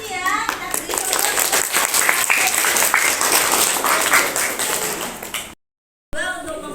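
A school class applauds during an Indonesian classroom lesson, with steady, dense clapping from many pupils and some children's voices for about five seconds. The clapping cuts off briefly, then talking resumes.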